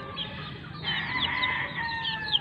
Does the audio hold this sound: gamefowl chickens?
yes